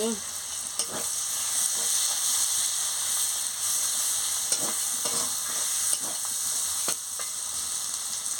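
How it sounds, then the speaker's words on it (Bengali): Spice masala with red chilli powder, turmeric and chopped tomato for aloo dum stir-fries in a pan, a constant close hiss of frying with repeated scraping stirs every second or so, no voices. "লঙ্কার গুঁড়ো আর হলুদের গুঁড়ো দিয়ে দিচ্ছি, দিয়ে ভালো করে মশলাটাকে কষিয়ে নিচ্ছি"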